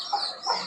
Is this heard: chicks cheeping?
yes